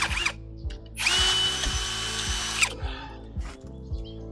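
A power drill drives screws into a piece of wood in short bursts, with one longer whirring run in the middle and brief clicks between, close up and without speech.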